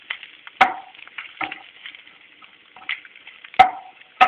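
Chopped ginger sizzles in hot oil in a pan, a quiet steady hiss broken by sharp sputtering pops that burst out every second or so.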